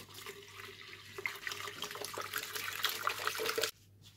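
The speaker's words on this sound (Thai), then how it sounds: "เดี๋ยวเราจะเทน้ำที่เป็นอุณหภูมิปกตินะคะใส่เข้าไปในเหยือกก่อนนะ" Room-temperature water pours steadily into a jug for a kombucha brew, a continuous splashing trickle heard close up with no talk, cutting off abruptly near the end.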